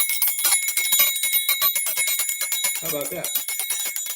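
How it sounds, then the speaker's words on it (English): A small dinner bell rings rapidly and repeatedly to call a dog, bright metallic tinkling close by, with someone speaking briefly near the end. "I'll have the dinner bell for traveling"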